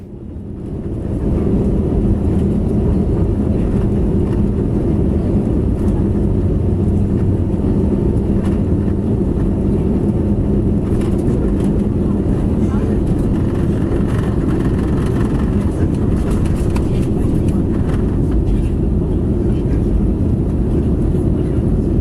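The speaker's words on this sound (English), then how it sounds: "Yeah, the plane is actually going pretty fast," A passenger airplane accelerates down the runway for takeoff, its engines giving a steady, loud, broad roar that holds constant throughout, with no talk over it.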